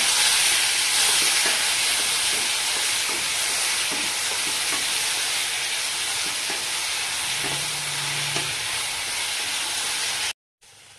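Tomatoes sautéing in a pan for prawn gravy, a loud, dense, continuous sizzle with faint scraping of a spoon as they are stirred, close up, before a brief cut near the end.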